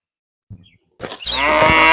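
A buffalo gives a long, loud, low moo that swells and holds near the end, preceded by a couple of soft rustles and shuffling sounds in a rural setting.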